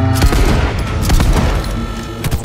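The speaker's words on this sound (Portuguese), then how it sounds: "Atirando!" Rapid gunfire from the video game Cyberpunk 2077, a dense loud fusillade of overlapping shots and booms filling the whole stretch without pause.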